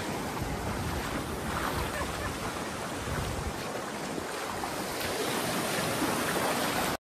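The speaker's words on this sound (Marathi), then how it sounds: "आणि फुल लाटा येत आहे एकदम भारी." Sea waves breaking on a beach in strong wind, a loud continuous roar of surf mixed with heavy wind buffeting on the microphone, with no pause throughout.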